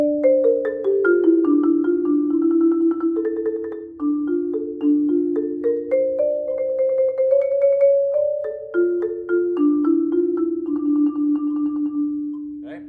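A keyboard percussion instrument plays the opening four-measure phrase of an etude as a continuous run of struck mallet notes in a flowing melodic line, resonant and close, with no talking.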